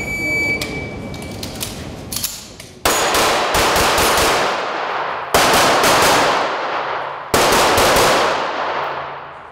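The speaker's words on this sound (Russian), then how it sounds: "Практическая стрельба" Gunfire at a practical shooting tournament, a fast string of sharp shots followed by three loud, reverberant single blasts spaced about two seconds apart, each trailing into a long echo.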